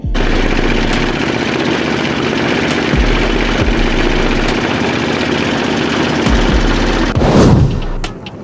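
A river trawler boat's diesel engine runs loud and close near Chandpur, giving a fast, steady mechanical chugging rhythm throughout, with a brief whooshing surge late in the clip.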